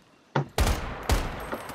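Gunfire from the survival video game Once Human: a short burst of two or three loud, close shots with brief reverberant tails, starting after a moment of quiet.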